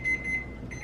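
A kitchen timer alarm beeps during chocolate muffin baking, a brief pair of thin electronic tones with a short gap between them over faint room noise.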